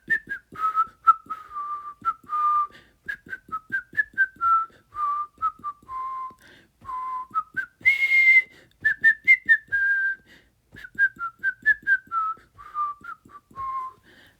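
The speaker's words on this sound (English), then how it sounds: "I can whistle it, and I'll sing the words, but let me whistle it first" The melody of Camptown Races whistled solo, clear and close, in short bouncy phrases with one higher held note midway.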